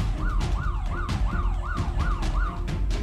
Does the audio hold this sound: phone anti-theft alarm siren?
yes